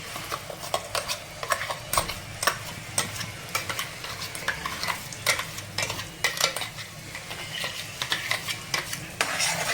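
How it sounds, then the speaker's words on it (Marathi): Ground spice paste for a chickpea curry sautéing in hot oil, with a steady close sizzle and repeated sharp clinks and scrapes of a spoon stirring against the pan throughout, no voices. "व्यवस्थित असं वाटण आपल्याला छान असं परतवून घ्यायचं आहे मस्त असं तेलामध्ये वाटण छान परतलं"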